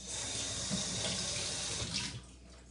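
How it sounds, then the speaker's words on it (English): Running kitchen tap water splashing over hands being rinsed at a sink, a steady close rush of water that cuts off near the end. "Let me wash my hands real quick. I'll rinse them off of these."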